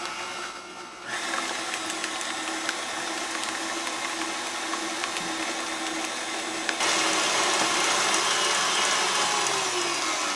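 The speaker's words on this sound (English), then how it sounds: "Then you're going to turn it on and whisk it until it becomes a thick ribbon-like substance" Electric hand mixer whisking egg yolks, sugar and vanilla in a mixing bowl, a steady, continuous motor whir with a whining buzz that starts after a brief quiet moment and grows slightly louder near the end, with no talking.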